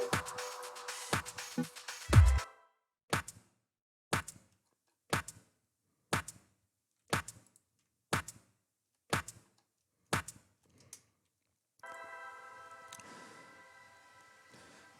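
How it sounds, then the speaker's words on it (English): A clap percussion sample plays in music production, a dry snappy hit repeated about ten times at a steady, roughly one-per-second pulse, alone and close, with a brief tonal tail near the end. "So, this was the clap."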